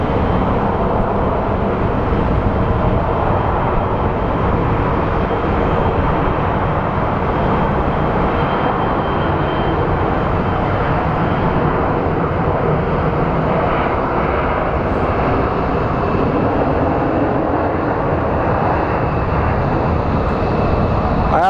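An airliner at Phoenix Sky Harbor International Airport produces a continuous jet roar, loud and unbroken for the whole stretch, with no distinct voices over it.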